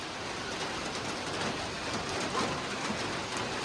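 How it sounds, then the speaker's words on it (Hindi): Sudden evening rain pours down in a steady, dense hiss of drops striking surfaces, even and unbroken throughout with no voices. "देखो अचानक से बारिश स्टार्ट हो गई।"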